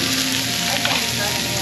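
Steady, dense sizzling of food frying on a hot stone, loud and close, with a continuous crackling hiss throughout.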